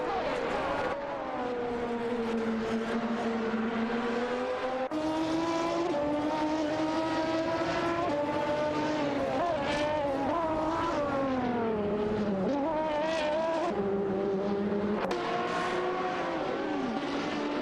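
Race car engines from an AI racing video game, with cars such as a Lamborghini Murcielago R-GT dueling for position, their loud, continuous whining tones rising and falling through gear changes and overlapping as several cars pass.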